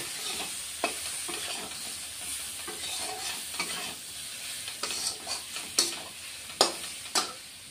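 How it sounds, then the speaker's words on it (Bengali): Diced potatoes sizzle and fry with spices in a hot pan for a Bengali rohu fish curry with vegetables, with steady frying hiss broken by sharp spatula scrapes and knocks that grow more frequent toward the end. "এই আলুগুলি এখন মশলার সাথে ভালো করে আমি মিনিট 2 কষিয়ে নিব"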